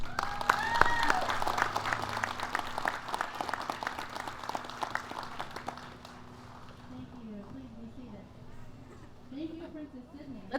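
A large crowd applauds steadily at the opening ceremonies of the Choctaw Indian Fair, the clapping dense and loud at first, then thinning into scattered claps with music or voices faintly underneath.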